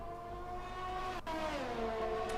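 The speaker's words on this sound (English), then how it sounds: "The F1 engine sounds should be good background music for you." Engines of F1 cars in a racing video game during an Australia race, a steady high-pitched whine with layered harmonics that holds continuously, dips briefly in the middle, then resumes with a falling pitch shift as a car passes or shifts.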